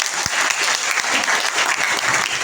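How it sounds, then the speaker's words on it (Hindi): An audience at a motivational talk claps loudly and continuously, a dense, close wash of applause with no speech. "एक बार जोरदार तालियां बजा दीजिए।"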